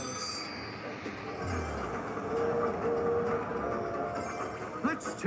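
Train sounds from a Monopoly Express slot machine game in a casino, a steady rumbling rail-style bed with a brief whistle-like tone, playing amid casino background noise.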